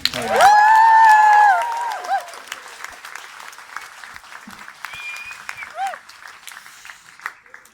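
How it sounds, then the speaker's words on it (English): A crowd at a live spoken-word poetry show in a music venue breaks into applause, opening with a loud burst of clapping and a sharp whistle, then continuing as scattered, lighter claps and cheers. "can we give a huge, gigantic round of applause to the Fleece for having us out tonight?"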